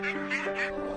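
Ducks at an organic nursery in West Sussex give three quick, nasal quacks in close succession, clear and fairly near with no other sounds.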